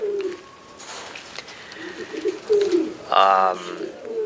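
Racing pigeons coo in a breeding loft, giving several soft, throaty low calls spread across the moment, with one louder burst near the end and a faint background hum.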